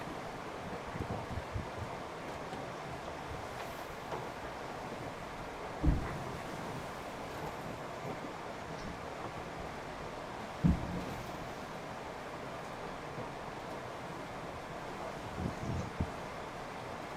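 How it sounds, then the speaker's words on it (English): Steady, faint wind rushes around a sailboat moving at 5 to 6 knots in a 10-knot easterly breeze, with low water wash and a couple of brief knocks. "we had 10 knot winds from the east"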